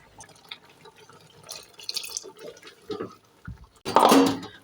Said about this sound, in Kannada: ಇನ್ನು ಸ್ವಲ್ಪ ನಾನು ನೀರು ಹಾಕ್ತಾ ಇದ್ದೇನೆ